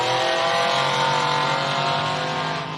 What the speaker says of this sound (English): Sounds good off the line too. Healthy 6 litre in that thing.